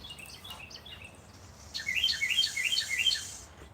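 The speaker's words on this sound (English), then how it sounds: "There's one happy little bird over there." A small bird chirps outdoors: faint scattered tweets at first, then a brighter, nearer run of quick repeated high chirps in a lively rhythm over quiet background, with no speech.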